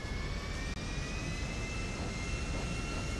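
Airplane landing in the video game GTA 5, heard as a steady, loud jet engine roar with a high whine that holds for a few seconds. A brief dropout cuts it near the start.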